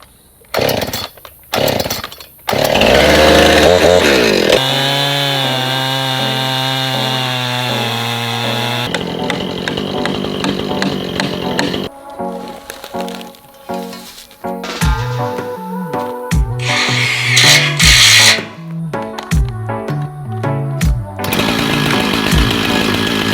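A chainsaw mills cedar logs with loud revving bursts and long sustained cutting whines, pitch dropping as the bar bites into the wood, with brief idles and pauses between cuts.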